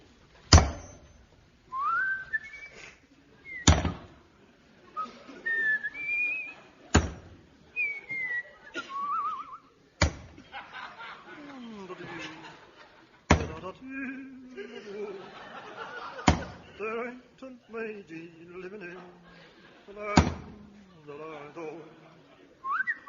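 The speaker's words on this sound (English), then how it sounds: "the yard rang to the sound of British workmen at top pressure" A comic radio sequence from The Goon Show of workmen building: rhythmic hammering bangs every few seconds, mixed with jaunty whistling, chuckles and playful cartoonish sound effects, with voices talking in between.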